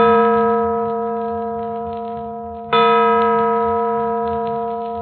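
A deep bell tolls twice, each strike ringing out loudly and slowly fading into a long, humming resonance.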